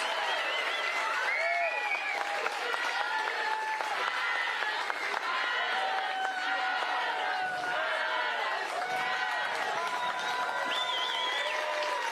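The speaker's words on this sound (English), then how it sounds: "Let's give them a nice round of applause." A crowd applauds steadily for the finishers of the women's 6,000 m NCAA Division II cross country championship. The sustained clapping fills the scene, with chatter and scattered cheers mixed in.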